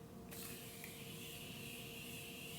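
A Tarte Maracuja Miracle Mist facial spray gives a soft, steady hiss of spritzing close by. It sets in after a brief pause and keeps going without a break.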